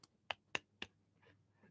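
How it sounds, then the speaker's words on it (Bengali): Three sharp hand claps ring out in quick succession in a classroom, crisp and close, followed by a faint rustle. "হাততালি।"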